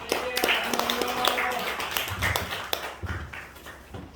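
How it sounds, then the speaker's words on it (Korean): A church congregation at a patriotic prayer rally claps in welcome, a steady patter of hands with a few sharper taps, filling the hall at moderate volume. "한 분 한 분 격려의 박수로"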